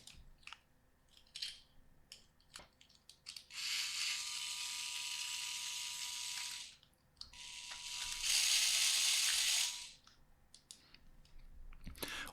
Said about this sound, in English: to control, for example, a 9 volt motor with the power functions battery box.